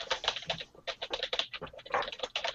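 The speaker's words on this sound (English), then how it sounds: "stops typing his novel over there" Rapid, irregular clicking of fingers typing on a computer keyboard, close and crisp, with brief pauses between bursts of keystrokes.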